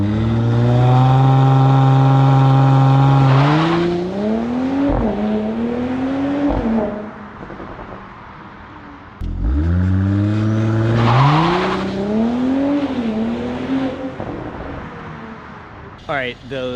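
A Mercedes C43 AMG launches hard from a standstill, engine revving up through gears in two separate runs with rising pitch, shifts and brief tire spin, loud and close, with a short lull between the pulls.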